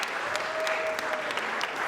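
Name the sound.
audience applause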